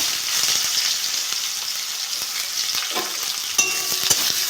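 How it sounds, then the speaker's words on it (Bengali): Steady sizzling of onions frying in hot oil after black cumin seeds, close up, with occasional scraping and stirring of a utensil in the pan. "পেঁয়াজটা একটু ভেজে নেবো"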